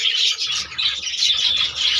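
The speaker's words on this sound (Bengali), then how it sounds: "আরও একটা যে আমার বদ্রি পাখির কলোনি আছে" Budgerigars in a breeding colony during breeding season, chirping and twittering continuously in a dense, bright chorus of overlapping calls at close range.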